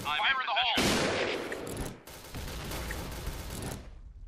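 Gunfire in the shooter game Point Blank using a PGM Hecate II sniper rifle: loud, booming shots with long decaying tails, close up, over a layer of game sounds and a voice talking at the start.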